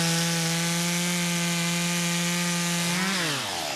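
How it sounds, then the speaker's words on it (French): Chainsaw running steadily at high revs while cutting Christmas fir trees in a Normandy fir plantation, a loud droning whine that dips and bogs down near the end. "le silence de la plaine est remplacé par le doux murmure des tronçonneuses"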